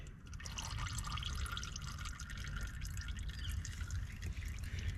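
Thick motor oil drains steadily from a 1998 Ford F150 4.6 4x4 during an oil change, a faint continuous trickle and dribble with scattered drips.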